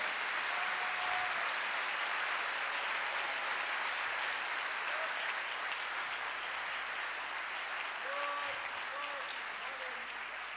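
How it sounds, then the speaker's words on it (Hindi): Sustained, loud applause from a church congregation during a Sunday service, a steady wash of clapping for Jesus that runs unbroken for several seconds, with faint voices mixed in underneath. "जोरदार तालियां यीशु नासी के लिए।"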